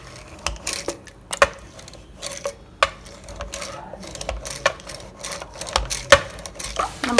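A masher works cooked spinach and dal in a pot in a home kitchen, giving irregular wet squishes and sharp metallic taps against the pan, close and fairly loud, with no talking.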